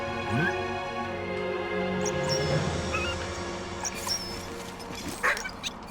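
A dog in the video game Valiant Hearts gives short yips and whimpers over a layered game music and ambience bed, with a few brief high calls scattered through and a faint voice at times.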